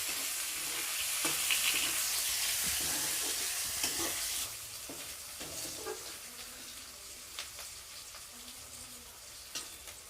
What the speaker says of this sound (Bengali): পেঁয়াজ কুচোটাকে একটু লাল লাল করে ভেজে নেব।